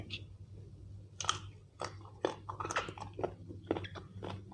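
Crisp jicama is bitten and chewed close to the mic, giving a run of sharp crunches in an uneven rhythm over a low steady hum, with no talking.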